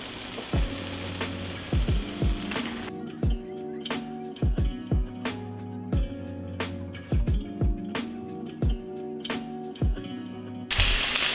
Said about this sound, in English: we're gonna lay our beautiful breaded fish right on, like so